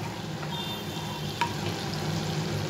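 Whole cardamom, cloves and cinnamon sizzle in melted butter in a pan, a steady close hiss of frying with a brief clink partway through and no talking.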